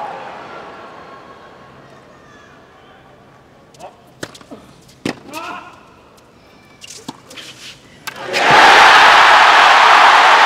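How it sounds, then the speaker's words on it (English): Tennis crowd at a US Open semifinal erupting into frenzied cheering and roaring after a quiet stretch of scattered sharp sounds, the noise loud and sustained through the final two seconds. "Sending the crowd to a frenzy."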